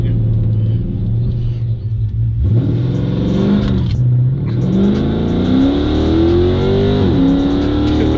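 A RIPP-supercharged 3.6-litre Chrysler 300 accelerates hard, its loud engine note rising steadily in pitch through the gears with a brief dip around a shift, heard from inside the car with continuous road rumble beneath.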